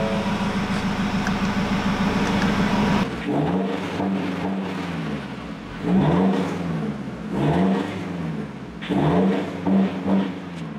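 A Ford Ranger Wildtrak fitted with a full exhaust and headers idles with a low burble, then revs up sharply several times in quick rising and falling bursts, close and loud, with no one talking.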